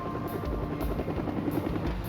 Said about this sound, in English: Their path was lit by an aircraft overhead.